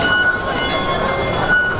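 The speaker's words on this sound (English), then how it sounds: "We are taking the subway on our way to Temple Street Night Market." Loud, steady rumble of a Hong Kong subway train running at rush hour, with continuous rail noise and faint high squeals over the wheels, heard from close by and with no talking.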